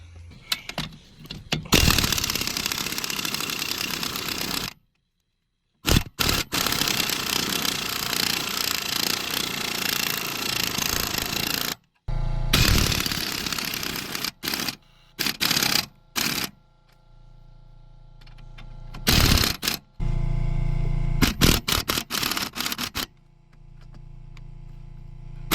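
An impact or ratchet socket wrench removing rusty leaf spring block bolts on a 2007 Cateye truck, loud rapid hammering bursts with several short pauses and a final stretch of lighter clatter.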